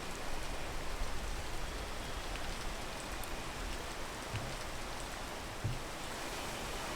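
Steady rain hissing down in a video game, a dense wash of drops with no voices, even and unbroken throughout.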